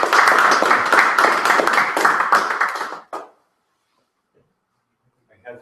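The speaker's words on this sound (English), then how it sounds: "First, a round of applause." An audience claps at a Ruby on Rails meetup talk. The applause is loud and steady for about three seconds, then stops abruptly, and a brief voice follows.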